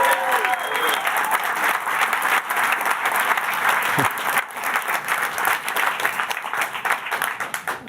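Audience applause fills a Microsoft Surface launch event hall, a dense, steady crowd clapping that holds strong for the full stretch, with a few louder hand claps close by and faint cheering mixed in.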